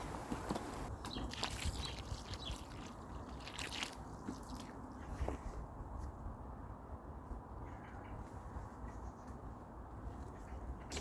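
Water splashes and soaks into garden soil around newly planted leeks, a continuous soft patter and squishing broken by a few brief crackles, close and fairly quiet.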